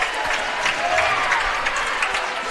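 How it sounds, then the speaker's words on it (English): A crowd at a varsity high school basketball game cheers and claps after a dunk, a loud sustained roar of applause with scattered shouts and sneaker squeaks. "This crowd acting like that's the first dunk they've ever seen in their life."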